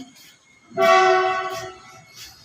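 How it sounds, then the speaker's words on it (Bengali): A train horn sounds once near a station, loud and close, holding a steady tone for about a second before fading, with faint rumbling before and after. "এই যে পাশে স্টেশন, তার জন্য ট্রেনের আওয়াজ শোনা যায়"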